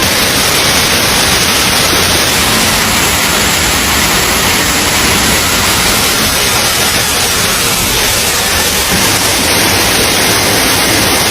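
A waterfall near a field where water spinach is picked roars as a loud, constant broadband rush of falling water, close and unbroken, with no talking.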